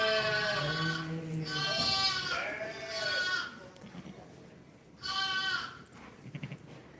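Ewe sheep bleating during lambing: several long, loud, harmonic bleats close by, one after another with short gaps, over low background rustle.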